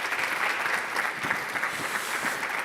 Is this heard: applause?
yes